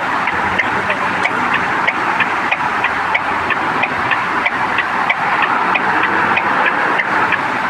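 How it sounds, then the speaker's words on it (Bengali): A truck's engine drones steadily in the Truck Simulator Indonesia video game as it turns around, a loud continuous hum with a faint regular ticking like an indicator, no talking. "গাড়িটা ঘুরে দিতে হবে আমার"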